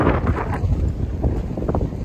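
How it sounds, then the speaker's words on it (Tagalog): Strong wind buffets the microphone during a family bike ride near the SLEX Tayabas–Lucena exit, a steady low roaring rumble that fills the whole clip with no talk. "Lakas po ng hangin."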